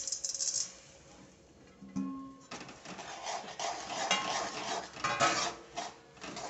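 A spoon scrapes steadily around a pan, mixing a dry blend of sesame seeds, coconut, roasted gram and crushed peanuts for sesame laddoos. A soft, continuous scraping builds after a brief quieter start, with no talking.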